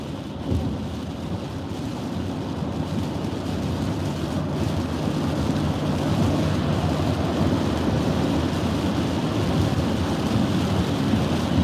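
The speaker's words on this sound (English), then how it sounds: "Driving through the storms." From inside a moving car, a heavy rainstorm gives a dense, loud rumbling wash of rain and road noise that holds steady throughout, and no voices are present.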